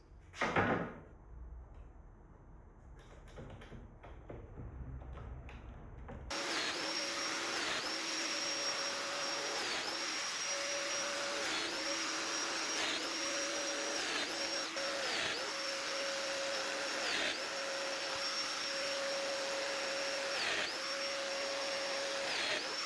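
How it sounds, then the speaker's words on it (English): A Festool-style domino joiner cuts mortises into wooden shelf rails, a loud steady motor whine with a rhythmic rise and fall as each plunge cut is made, after a few quiet workshop clatters. "Next, I route the dominoes I'll use to connect the rails to the legs."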